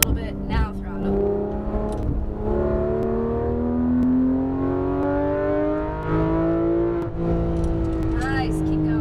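Porsche 991 GT3 RS accelerating hard on a race track, engine note climbing steadily through the revs with a brief gearshift, loud in-cabin roar while an instructor speaks over it.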